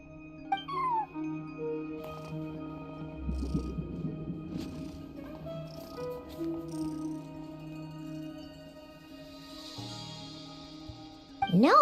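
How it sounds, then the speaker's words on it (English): A cat meows at a hotel front desk in a fantasy video game, a short call near the start and another at the end over steady ambient game music. "No one except for a cat watching over the front desk."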